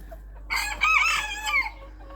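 Nearby chicken calls, a few loud squawking clucks blending together in quick succession over a low steady hum, with no talking.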